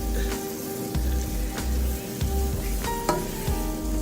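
Butter and marshmallows being stirred in a pot over heat, with a steady sizzle under repeated scraping strokes of the spoon, close and fairly loud, no talking.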